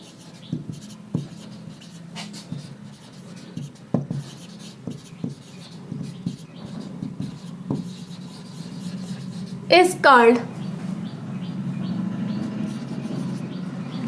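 Chalk or marker writing on a board during a math lecture, with scattered taps and scratchy strokes, then a brief squeaky stroke near the end over a low background hum. No one speaks.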